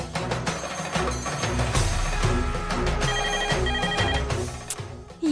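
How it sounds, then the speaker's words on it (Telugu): A landline telephone rings through a steady bed of television drama music, its repeated electronic bell tones sitting over the score for the full stretch with no talk. "రింగ్ అవుతుంది."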